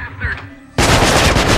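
Rapid burst of gunfire from the video game Manhunt erupts loud and sustained after a quieter stretch of ambient game sound, continuing as dense automatic shots to the end.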